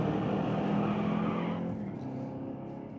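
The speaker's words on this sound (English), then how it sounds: "The Super B Charger is out first. Sean Langley trying to run him down." Two drag-racing cars, a new Ford and an old Dodge Super Bee Charger, roar down a quarter-mile strip at a sportsman ET series race, loud and continuous, with the engine roar easing slightly partway through.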